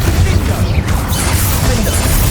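Incendio fire spell cast during spider combat in the video game Hogwarts Legacy: a loud, dense burst of rumbling, crackling game effects with heavy low-end boom that holds steady throughout.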